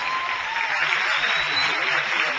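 Steady applause from an audience for dancers at a live comedy and dance show, a dense even wash of clapping with no breaks across the whole moment.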